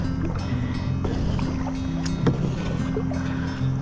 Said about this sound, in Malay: kita pergi belajar mendayung guys